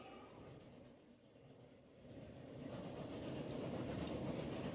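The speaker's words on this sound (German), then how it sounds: "Da kommt mein Zug." A train arriving in the Transport Fever video game, a steady rumbling rail roll with faint clickety-clack that grows louder toward the end, heard alone without speech.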